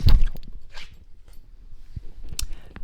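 A large dog shuffles and scrabbles close by as it is moved, letting out a few short, thin whimpers between thumps and rustling, with no talking.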